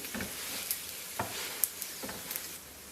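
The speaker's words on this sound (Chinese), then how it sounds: "翻面以后轻轻地转动一下饼坯，让每一个饼都受热均匀。" Chive-filled pancakes fry in a pan with a soft, steady sizzle and a few faint stirring or shifting touches, close but quiet, with no talk.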